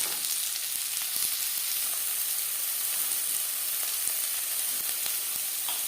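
Chopped onion and garlic frying in hot refined oil for a chicken vegetable roll filling, giving a steady, close, bright sizzle that runs unbroken throughout with faint stirring ticks and no talking.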